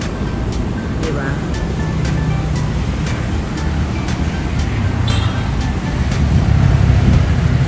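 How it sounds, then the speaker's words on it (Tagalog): Ocean waves wash onto a beach in Da Nang, Vietnam, a steady broadband surf roar under voices and passing street traffic, swelling louder toward the end. "tingnan nyo yung mga alon"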